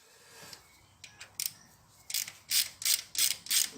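Ratchet wrench clicking as it spins freely on the wrong nut during injector seal replacement on a Peugeot 308, a run of sharp close clicks that grows louder and steadier toward the end, with no talk.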